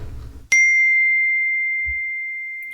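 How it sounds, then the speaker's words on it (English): A single bright bell strike rings out after a moment of low rumbling, its clear tone sustaining and slowly fading for a couple of seconds. "The bell sounded for breakfast."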